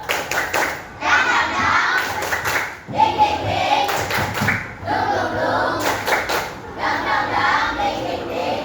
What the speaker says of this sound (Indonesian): Tepuk semangat dan dingdung.